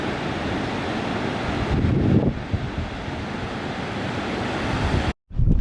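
Strong coastal wind on an Eyre Peninsula beach in South Australia roars and buffets the microphone continuously, mixed with the rumble of surf, before cutting off abruptly near the end.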